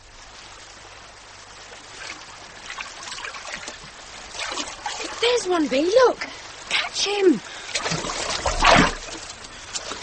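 A river in a radio drama trickles softly and steadily, with splashes and gurgles rising toward the end. Voices speak over the water.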